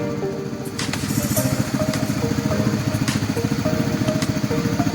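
Motorcycle engine running steadily and close as the bike rides toward a waterfall, a continuous loud throbbing drone with a few brief clanks over it.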